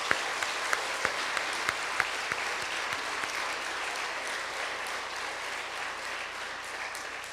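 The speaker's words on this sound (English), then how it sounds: "Let's give all those individuals a round of applause." A closing-session audience at a summer running camp claps together, a steady dense patter of hands holding for several seconds with a few sharper claps standing out near the start, no voices on top.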